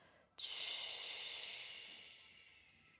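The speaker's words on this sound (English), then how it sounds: "Let's breathe into the belly." A slow, deep breath drawn during a stretching and breathing exercise, a soft airy hiss that swells suddenly and then fades gradually over a few seconds, close to the microphone with no talking.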